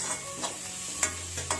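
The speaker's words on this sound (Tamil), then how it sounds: "வெங்காயம் நல்லா வதங்கட்டும்." A soft, steady sizzle of onions frying in a pan, with a few light scraping stirs.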